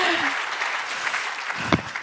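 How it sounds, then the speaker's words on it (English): A conference audience breaks into brief applause and cheering for a woman, a dense burst of clapping that stays fairly steady over a couple of seconds, with a few voices mixed in. "Give her a big cheer."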